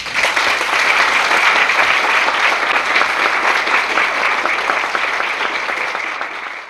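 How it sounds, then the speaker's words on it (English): Loud, sustained applause from an audience at a benefit for arts figures concerned with Vietnam fills the room, steady and dense before tapering slightly at the end. "Thank you very kindly for your heartwarming applause."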